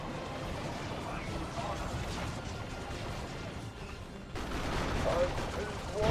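Autocannon fire in a Warhammer 40k: Dawn of War 2 Elite Mod 1v1 battle, dense rapid bursts of shots and impacts running steadily throughout and growing louder near the end, with a commentator talking over it.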